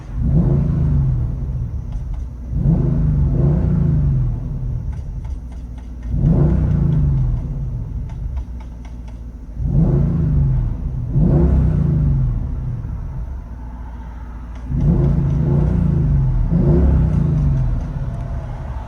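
From inside the cabin, a supercharged 5.5-litre V8 Mercedes E55 AMG with competition package, headers and a cat-back exhaust is revved about five times. Each deep rumbling swell rises and falls, with no talking.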